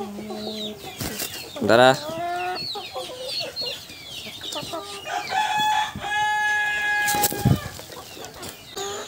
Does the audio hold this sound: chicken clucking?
yes